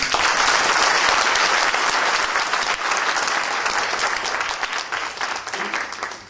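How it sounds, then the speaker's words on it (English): Sustained round of audience applause at a leadership foundation awards ceremony, loud and dense from the start and gradually thinning toward the end, with no talking over it. "So let's give them a great round of applause."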